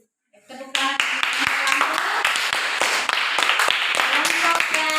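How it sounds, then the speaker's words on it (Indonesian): Children clap together for a group in a classroom after a discussion presentation, a dense, steady patter of many small hands that starts abruptly and keeps going, with talk mixed in. "Tepuk tangan"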